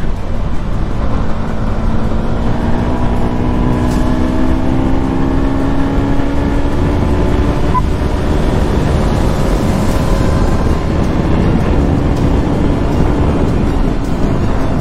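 An RC 200 BS6 motorcycle runs hard at speed on the road in Uttarakhand, its engine note climbing through the gears as a steady, loud drone mixed with wind rush, with no talking.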